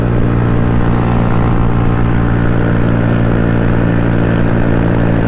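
A small-bore motorcycle engine held at about 8,000 RPM during a small-bore rally ride, producing a loud, steady, unbroken drone with a buzzing harmonic whine that holds at constant pitch.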